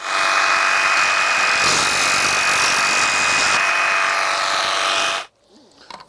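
A Milwaukee barrel grip jigsaw cuts an aluminum window frame with a loud, steady buzzing whine for about five seconds, then stops abruptly, leaving quiet rustling.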